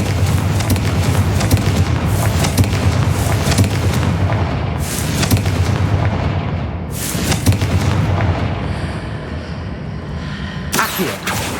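A Confringo fire spell from the Hogwarts Legacy video game bursts in a run of loud, booming explosions with crackling blasts, sharp bangs near the end, and a dense, sustained roar throughout.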